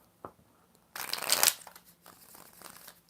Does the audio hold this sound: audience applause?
no